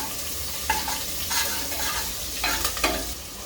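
Chopped garlic, ginger and green chili sizzle in hot oil for Maharashtrian misal, a steady crackling fry with a few stirring scrapes, close up and fairly loud.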